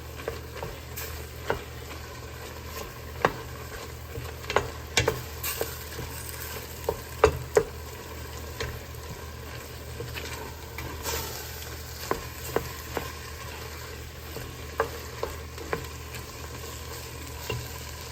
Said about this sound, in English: we're just gonna mix that in, get that all combined.